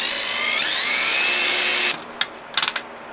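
A power drill drives a decking screw into a wooden board while building a beehive stand: a steady, loud whine that rises in pitch and runs for about two seconds, then stops, followed by a few sharp clicks and taps.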